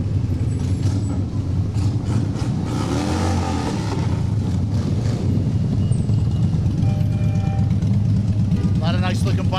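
Motorcycles ride past in a 2012 Woodbridge Township veterans parade, a loud continuous engine rumble with rising revs and a hiss of brakes near the end, voices mixed in beneath.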